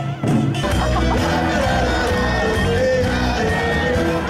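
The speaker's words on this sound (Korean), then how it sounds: "이 공연에 거리의 많은 사람들은 아낌없는 박수를 보내주었다" A street crowd watching a parade performance by hanbok-clad performers and a samulnori percussion troupe in Vancouver cheers and shouts, with dense layered crowd noise and music running loud and continuous throughout.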